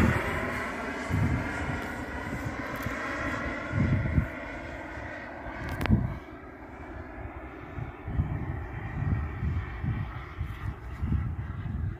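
A Pichler L39 Albatros model jet flying at half throttle gives a steady, moderately loud turbine whine and roar that swells and fades slightly as it passes, with no voices over it.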